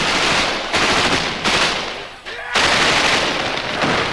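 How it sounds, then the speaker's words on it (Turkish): Sustained automatic gunfire during street fighting in Fallujah, captured in 2004 news footage, with dense rapid bursts nearly continuous across the clip and brief gaps between volleys, loud and close. "Feluçe'de silah sesleri susmuyor."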